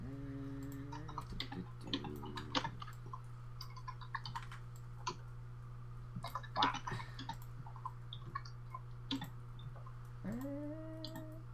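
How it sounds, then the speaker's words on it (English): Typing on a computer keyboard during an online tabletop role-playing session: scattered bursts of sharp key clicks, irregular and fairly close, over a constant low electrical hum, with short bits of voice in between. "Oh, sorry, I hope the typing isn't too loud."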